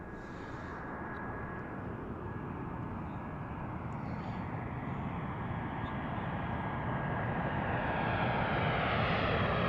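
A fixed-wing airliner on final approach to runway 19 at Washington Reagan National, Gravelly Point, its engine roar broad, steady and loud, swelling slightly as it nears overhead.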